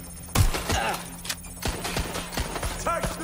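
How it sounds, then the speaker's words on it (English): Rapid bursts of gunfire in the video game Watch Dogs: Legion: sharp, punchy shots crack out one after another, mixed with in-game voices shouting during the firefight. "We've got a shooter! Taking fire!"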